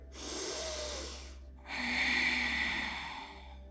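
A person draws two audible breaths through the nose while holding yoga boat pose, the second longer and stronger than the first, close and fairly soft, with no talk.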